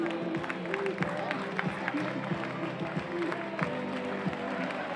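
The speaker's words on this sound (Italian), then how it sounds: "ecco che Luigi Cirotti, Polisportiva Chieti, si presenta qui sul rettilineo per accogliere l'applauso del pubblico." Spectators applaud and clap steadily for a runner finishing at an Italian youth athletics championship in Jesolo, a 2000 m steeplechase, with crowd noise beneath an announcer talking throughout.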